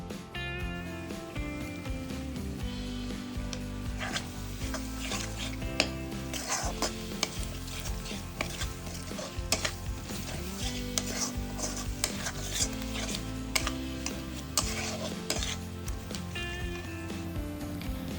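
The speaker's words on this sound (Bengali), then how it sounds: "পরিমাণ মতো লবণ হলুদের গুঁড়া ও ঝালের গুঁড়া দিয়ে কিছুক্ষণ নাড়াচাড়া করে নিলাম" Salt, turmeric and chili powder are stirred in a pan of hot oil with cinnamon and bay leaves, in a home-style country chicken recipe. Steady scraping and stirring runs over continuous sizzling, with background music throughout.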